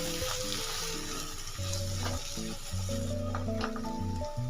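Kasuri methi being stirred into a sizzling mushroom and pea curry in a pan: a continuous frying hiss with scraping stir strokes, under steady background music, no voices.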